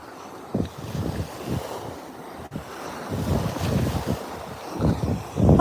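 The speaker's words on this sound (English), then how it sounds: "the sound of the ocean is so nice" Ocean waves roll and wash in an outdoor seaside setting, a broad rushing surge that swells and recedes repeatedly, mixed with gusty wind buffeting the microphone, moderately loud with no talking.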